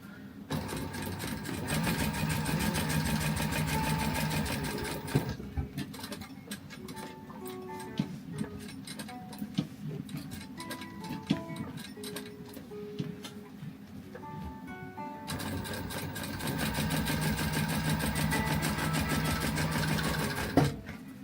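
A sewing machine stitches notepad covers for a custom order, its fast rhythmic mechanical whir running steady and close, pausing midway to a lighter ticking pattern before resuming.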